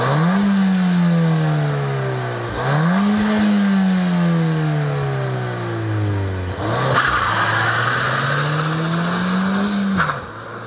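A Ford Fiesta RT engine revs hard through several gears on a road drive, pitch climbing then dropping at each shift, loud and close with no voices.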